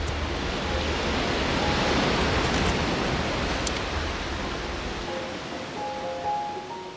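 Steady ocean surf roars as a dense, continuous wash that swells strongly and then eases, with a faint musical tone entering near the end.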